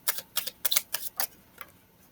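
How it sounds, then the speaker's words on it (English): A new deck of tarot cards being shuffled by hand: a quick run of crisp, close riffling clicks in short bursts that fade out toward the end, with no talking. "Maybe these cards want to be shuffled this way."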